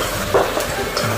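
Pork liver stir-fries in a hot wok with scallion, ginger and bell pepper, giving a steady close sizzle with brief stirring scrapes over it. There is no talking.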